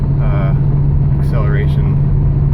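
Steady, loud low engine rumble inside an Audi S6 accelerating in D, an even drone with no clear gear shifts, under someone talking.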